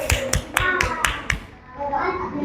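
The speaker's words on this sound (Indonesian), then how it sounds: "Beri tepuk tangan untuk Dirga" Children in a classroom clap in unison, six quick sharp claps in a steady rhythm, followed by a voice speaking.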